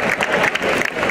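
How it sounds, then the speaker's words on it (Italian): Audience applause at an outdoor summer concert in Bovolone, a dense, steady wash of clapping hands from a crowd that stays loud and continuous through the short stretch. "Ancora un applauso, Michele!"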